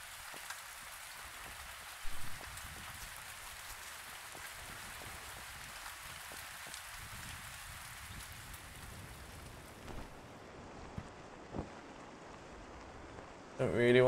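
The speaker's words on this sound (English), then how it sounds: "Don't really want to sleep in the rain." Steady rain falling in the survival game Survisland, a continuous broadband hiss with occasional louder drops, while someone talks quietly over it.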